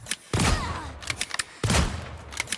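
Black Widow fires at bots in Marvel Rivals, two heavy bursts of shots separated by a short pause, close and loud with quick thuds in between.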